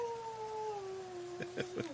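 A dog howls in a long, sliding tone that slowly falls in pitch, then breaks into a few short yelping bursts at the end, faint and alone.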